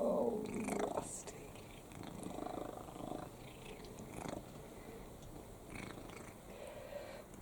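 Close, soft purring from a tired cat resting in a garden, a steady rhythmic rumble with slight breathy rises and no voices over it.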